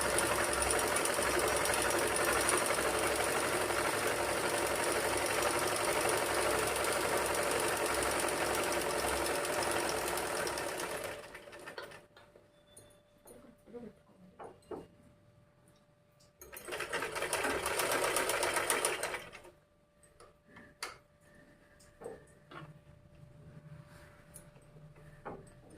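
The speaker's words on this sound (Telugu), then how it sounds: "అదైతే మళ్ళీ ఎడ్జ్లో కుట్టేసుకోవాలి" A sewing machine stitches cloth along the edge in a long steady whirring run of rapid needle strokes, stops, then runs again in a shorter burst, followed by quiet handling of the fabric.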